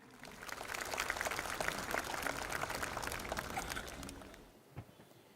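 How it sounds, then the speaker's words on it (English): Warm applause welcoming a speaker at a debate in Kolkata, a dense steady round of clapping that swells, holds for about four seconds, then fades to near silence with one last stray clap. "Please, a warm round of applause for Nalini Singh."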